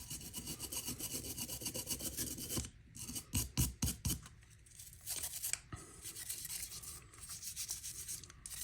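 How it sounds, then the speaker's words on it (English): A brush scrubs the outside of a Glock 43X pistol barrel in quick, rhythmic back-and-forth strokes, close and crisp, with a short pause and a few separate strokes partway through. "For the barrel, with the brush, just do the outside right now."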